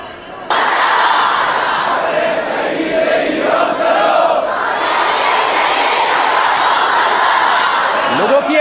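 A huge, dense crowd at Khamenei's funeral procession roars and chants continuously, a loud sustained wall of massed voices that swells in after a brief quieter opening.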